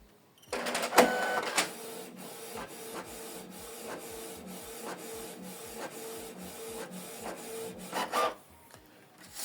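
A Canon Pixma TS3751i printer prints a document: a clunk of paper feeding, then a run of mechanical whirring with rhythmic print-head ticks and shuttling, ending in a louder burst as the sheet is pushed out.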